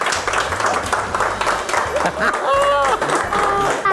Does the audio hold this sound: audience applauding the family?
yes